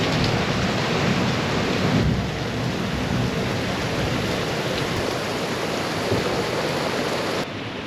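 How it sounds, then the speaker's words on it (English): A night thunderstorm pours heavy rain onto a boat in the Balearics, a dense, constant roar of rainfall with low rumbling thunder underneath, close and loud throughout. "this storm has been raging for quite a while"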